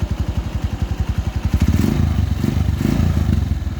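A TC 150 motorcycle engine with a misfire putters in rapid even pulses, then revs up into a louder continuous roar, close by.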